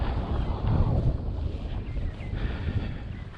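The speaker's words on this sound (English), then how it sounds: "this is a crazy windy day" Strong, gusty wind buffeting a microphone at an outdoor model-aircraft flying field, a loud rumbling roar that swells and eases without letting up.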